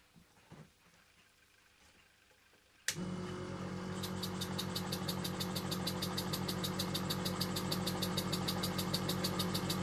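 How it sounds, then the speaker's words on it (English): A small compressor runs at a slow, smooth speed, starting abruptly and then chugging steadily with an even rhythmic beat, close and fairly loud with no talking. "This compressor, it works at a nice slow speed. Very satisfying, smooth action."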